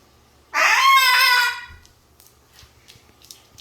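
Pet bird, tagged as rooster-like, lets out one loud, harmonic crowing call lasting about a second up close, followed by faint clicks and small rustles in a quiet room.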